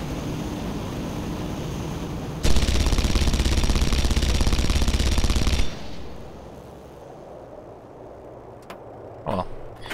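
A long, loud burst of continuous machine gun fire in Red Faction Guerrilla, several seconds of rapid shots that stop abruptly, followed by quieter ambience and a couple of brief sharp impacts.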